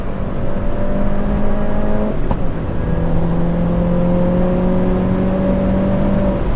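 A 300hp Mini R55 Clubman race car drives alone on a race track, its engine a loud, steady drone that holds pitch, dips briefly near the two-second mark, then climbs slowly as the car pulls through a gear.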